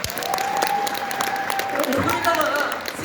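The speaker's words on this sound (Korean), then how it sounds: "박수 한번 부탁드립니다." Audience applause at a seminar, steady broadband clapping filling the room for a few seconds, with tonal voices or whistles weaving through it.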